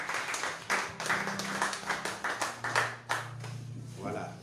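A congregation at a church service claps and applauds in a lively, rhythmic burst, with a voice speaking over the clapping.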